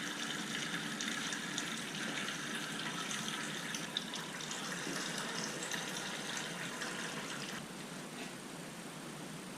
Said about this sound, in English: if I flip it over like this, well, making a little bit of a coolant mess